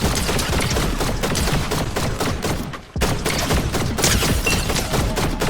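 Rapid assault rifle fire in Fortnite crackles in dense, continuous bursts with a brief lull midway before the shooting resumes, loud and close throughout.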